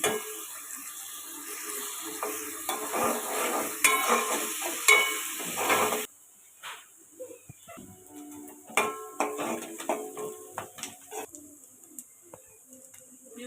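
Bitter gourd pieces added to softened onions frying in a pan, giving a soft sizzle and occasional stirring clatter that drop to a quieter crackle partway through, with birds cooing in the background.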